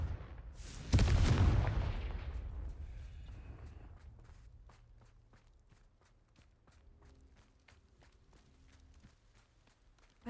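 A Confringo blasting spell fires in Hogwarts Legacy, a loud explosive burst near the start that decays over a couple of seconds, followed by a steady run of soft footsteps.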